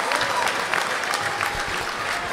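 At a girls' high school tournament basketball game, Clinton-Massie vs Wilmington, the Falcon crowd keeps up steady cheering and clapping, a continuous wash of crowd noise with a voice faintly audible beneath it.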